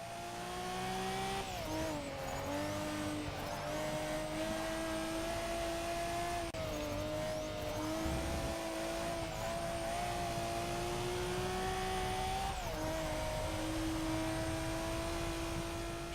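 A fully modified JDM car races in Forza Motorsport 6, its engine screaming loud and continuous while the pitch climbs through the gears and drops sharply at each shift, with no talk over it.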